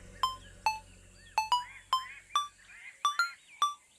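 A mobile phone ringing with a call from mom, a series of about nine short bright electronic tone bursts in an uneven rhythm, fairly close and clear, with a faint hum underneath that drops away partway through.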